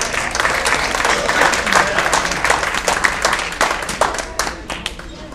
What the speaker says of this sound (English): Let's give these guys a round of applause again,